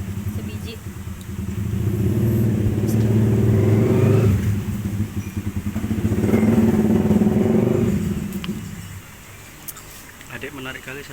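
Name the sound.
big motorcycle engine revving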